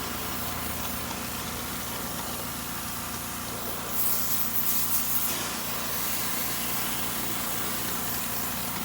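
A foamer sprays tire cleaner in a hissing burst of a second or two, partly masked by a steady low engine-like drone that continues throughout.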